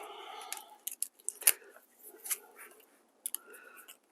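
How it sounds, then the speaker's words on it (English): Scissors worked against the lid of a tin of hardener during body repair on a Rover 75: a close, irregular series of sharp snips, clicks and scrapes separated by short pauses. "he said using scissors to open a tin, which you shouldn't really do."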